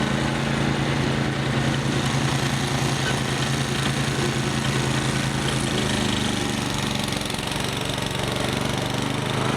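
Snowblower engine running during a big snow storm, a loud steady chugging rumble with continuous mechanical rattle and no pauses, close by, no talking.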